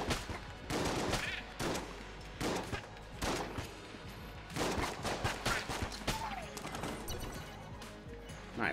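In the video game Enter the Gungeon, the trick gun fires in rapid bursts of loud, punchy shots mixed with impact crashes, continuing almost without a break.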